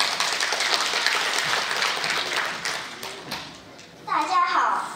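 An audience at a 2017 parent-child talent competition breaks into dense applause that fades after a few seconds. A voice then begins speaking.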